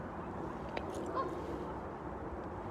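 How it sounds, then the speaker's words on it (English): Geese honking beside the drying Great Salt Lake, a few faint calls over a steady outdoor background hiss. "Geese are fascinating animals because you get close to them, they don't really run."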